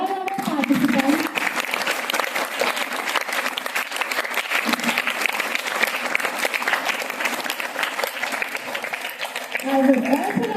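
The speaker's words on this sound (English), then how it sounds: "A big round of applause for all our participants." Middle school audience applauding participants at the close of an inter-house presentation competition, continuous crowd clapping at an even level, with brief voices at the start and end.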